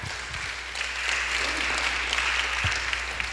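A congregation claps together in a church, a dense steady patter of many hands that rises slightly and holds for a few seconds at moderate loudness.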